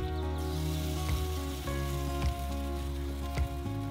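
Chicken thighs sizzling over low heat on a grill, a steady crackling hiss with occasional louder pops over a continuous background hum, and no talking.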